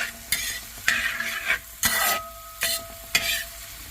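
Onions sautéing in a pan for a crab curry, with bursts of sizzling and frying as they are stirred, broken by scraping stirs at a steady rhythm, close and fairly loud with no talk.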